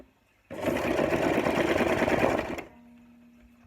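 Sewing machine stitching a standard button, run by foot pedal, a rapid close mechanical whirr with a steady fast needle rhythm lasting about two seconds before stopping, leaving a faint hum.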